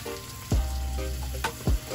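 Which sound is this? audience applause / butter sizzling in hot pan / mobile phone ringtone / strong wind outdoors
butter sizzling in hot pan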